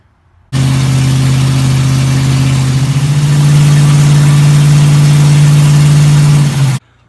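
A Ford Galaxie engine with an Autolite 4100 carburetor runs during break-in, starting abruptly and holding a loud, steady, close drone that shifts slightly in pitch midway, then cuts off cleanly.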